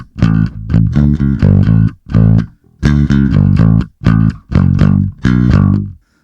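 Clean, undistorted bass guitar played through a Boss GT-1B multi-effects unit, a loud run of sustained, separated notes with short gaps, heard alone.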